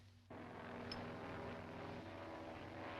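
Propeller airplane droning steadily in flight, a continuous engine hum that swells in abruptly near the start and holds loud throughout with no talk over it.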